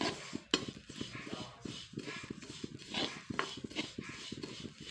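Sesame seeds dry-roast in a pan while being stirred, ahead of making sesame rice cakes. A quick, steady scraping and rustling repeats close up throughout.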